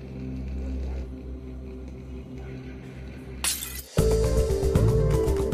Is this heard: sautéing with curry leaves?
no